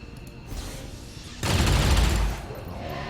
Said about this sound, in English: And then we can rapid fire the Hive Queen